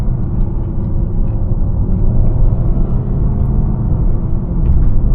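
Steady low engine rumble and road drone from a 2021 Mercedes-Benz A250 with a 226 hp engine and seven-speed dual-clutch gearbox, pulling in third gear from inside the cabin, continuous and loud with no breaks.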